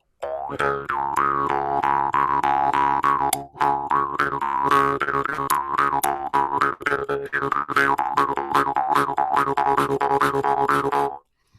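A Balinese bamboo jaw harp twangs in a continuous, rhythmic stream of buzzing, resonant plucks, loud and close, with one brief pause partway through and no talk.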